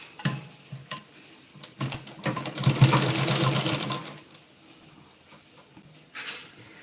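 A sewing machine tacking blouse pieces together, running in short stitching bursts that swell into a longer, louder run midway before easing back to intermittent clatter, close by with no voices.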